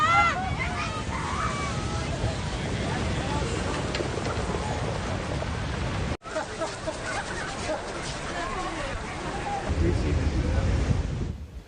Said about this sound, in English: powerful wave crashed over a seawall in Pacifica, California